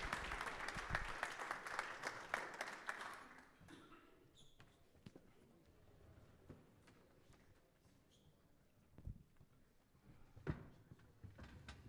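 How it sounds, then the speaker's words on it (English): A conference audience at a Bitcoin event in Medellin claps for a speaker, a dense round of applause for about three seconds that fades into scattered claps, footsteps and thumps around the room. "A round of applause for Mike and all that he's done,"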